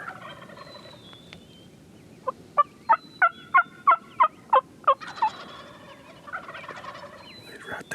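Wild turkeys gobble in Nebraska, a burst of about eight sharp, evenly spaced calls in quick succession at moderate distance, followed by a rolling gobble with other faint bird calls over quiet outdoor background.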